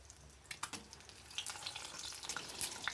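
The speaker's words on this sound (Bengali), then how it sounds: "এখন ডিমগুলোকে আমি ভেজে নিচ্ছি, ভেজে এবার তুলে নেব।" Boiled eggs frying in hot oil in a home kitchen, a steady close sizzle with scattered sharp pops and crackles throughout.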